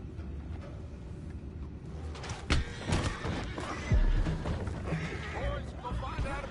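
Horses neighing and whinnying in the Red Dead Redemption 2 video game, loud nearby calls with hoof clatter, mixed with character voices talking.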